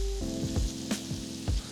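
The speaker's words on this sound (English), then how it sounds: "So now we're browning the onions and we're letting the onions sweat, the garlic sweat." Onions and garlic browning in a pan, a steady sizzle punctuated by several low thumps and scrapes of stirring, close and moderately loud.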